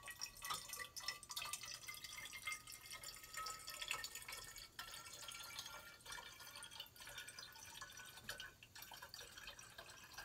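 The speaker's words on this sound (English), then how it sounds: "I'm going to add some water." Well over 500 millilitres of water poured into a glass separatory funnel, a faint steady trickle and splash running continuously and quietly throughout.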